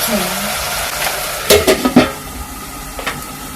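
Tomatoes softening in a pan are stirred, a soft ongoing sizzle broken by a few sharp clinks and scrapes of a utensil against the pot, close and clear.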